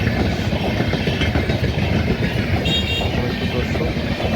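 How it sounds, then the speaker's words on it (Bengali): Mitali Express passenger train heading for Dhaka after crossing from India, rumbling steadily past at close range with a continuous broadband roar and faint wheel clatter, loud throughout with no break. "ইন্ডিয়ান মিতালি এক্সপ্রেস আসতেছে, ঢাকার উদ্দেশ্যে যাচ্ছে"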